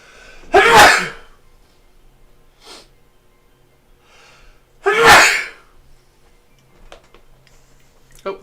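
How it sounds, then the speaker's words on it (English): Two loud, sharp human sneezes about four seconds apart, close up, with faint ticking and small breathy sounds in the quiet between them, during a painting session. "Sorry about sneezing."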